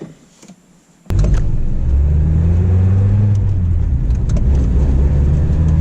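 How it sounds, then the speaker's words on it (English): An NA Mazda Miata starts and pulls out of a garage: after a brief quiet moment, the engine catches with a sharp burst and settles into a loud, close, steady rumble, its pitch rising and falling slightly as it moves. "we're going to wiggle out of the garage and go for a drive."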